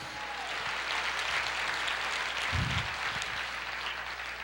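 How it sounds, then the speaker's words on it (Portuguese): A church congregation applauding the Lord, a broad even wash of clapping from many people that holds steady for the whole stretch, with a brief low thump in the middle. "Quantos pode aplaudir o Senhor?"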